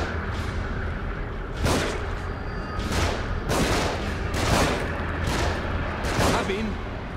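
Gunfire in The Evil Within: about six heavy shots in an uneven rhythm, close and loud, over a constant dense background of game noise, with a voice talking faintly underneath.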